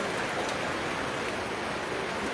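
Heavy rain pours down in Fatehpur Shekhawati as a steady, unbroken hiss of dense downpour that stays even and close throughout, with no voices.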